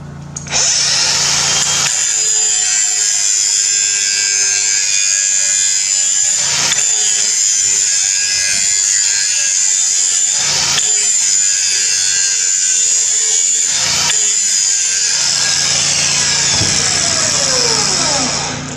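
A power grinder sharpens a Bad Boy Maverick lawn mower blade, giving a loud, steady high-pitched grinding whine close up. Three brief breaks interrupt the grinding, and no one speaks.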